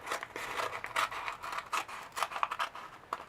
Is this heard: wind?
no